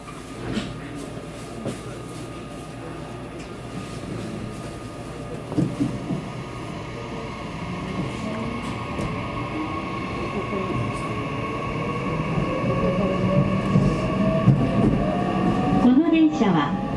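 Local train pulling away from a station on the Nara to Wakayama line, heard from inside the car as a steady low rumble that slowly builds, with rising motor whine, faint wheel clatter and a brief squeal near the end.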